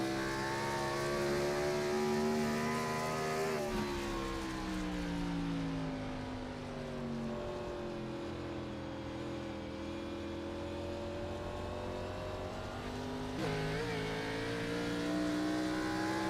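Several race cars from a racing game, an All-American Cup Series event at New England, roar past on track as a steady, loud engine drone with shifting pitch and a few gear changes.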